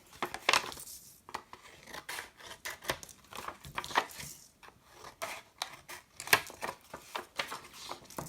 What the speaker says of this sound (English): So we're going to trim off the corners.